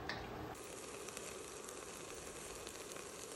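Diced carrots sauté in a pan over medium heat, giving a steady, soft sizzle with faint stirring clicks that runs unbroken to the end.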